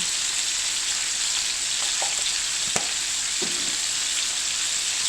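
Swiss steaks frying in a pan over medium-high heat, a loud, dense, constant sizzle with a few faint clinks and scrapes now and then.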